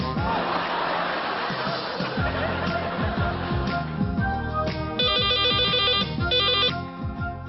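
A mobile phone ringtone for an incoming call rings out in a Pakistani TV sitcom scene, arriving as a loud, repeating electronic melody in two bursts near the end after background music and faint crowd murmur.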